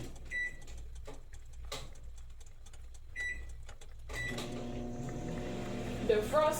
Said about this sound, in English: Defrost it a little bit right in that microwave and put it right in the soup.